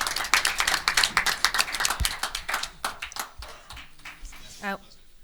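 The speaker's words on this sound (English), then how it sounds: "Clap those hands, everybody, and we say amen." People at a council reorganization meeting clap their hands after an opening prayer, a burst of loud, uneven claps close by that thins into scattered claps, with voices mixed in.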